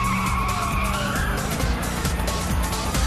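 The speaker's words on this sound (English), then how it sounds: "his stolen car goes by" A stolen car in a movie scene drives past with a loud engine roar and squealing tires, the noise sustained and close throughout the short pass.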